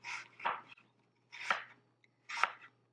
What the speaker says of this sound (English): Then we're just going to make thin slices, about 1/4 of an inch